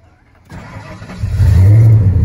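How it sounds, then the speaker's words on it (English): A 1991 Ford F150 farm truck engine cranks and catches after a quiet start, then revs up into a loud, deep, steady roar close by. "once we start the truck"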